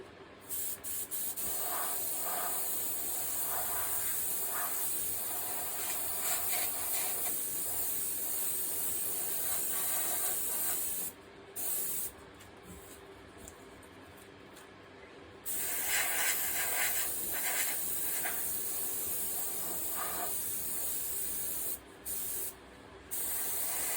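An airbrush sprays paint over a stencil while painting realistic flames, a steady close hiss that runs in long bursts and briefly stops and restarts a few times.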